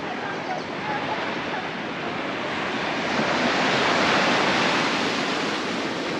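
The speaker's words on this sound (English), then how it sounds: "the surf is kind of raging" Raging surf on the west side of Oahu, Hawaii, makes a continuous loud wash of breaking waves that swells slightly toward the middle, with some wind noise on the microphone.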